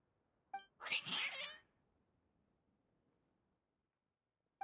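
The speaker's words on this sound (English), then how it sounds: "Your cats seem pretty worked up." Agitated cats in the video game Genshin Impact let out a single loud, drawn-out distressed meow near the start, framed by a couple of short faint clicks, then fall quiet.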